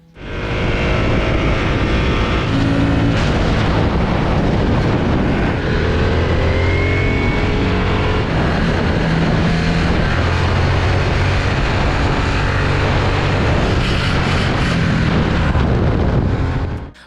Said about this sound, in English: Look at some of the clips of us going through the canyons in LA with this cruiser.